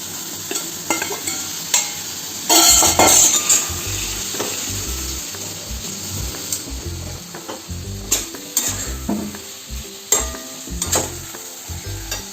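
Capsicum tipped into a hot pan and stir-fried, a steady sizzle punctuated by repeated clanks and scrapes of a spatula against the metal pan, close and fairly loud.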